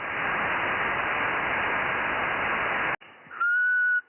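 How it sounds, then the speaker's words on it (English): A long hiss of 70cm amateur radio static cuts off abruptly, then a single steady, loud whistle tone rings out over fainter noise. "Heard that might have been Mike's whistle"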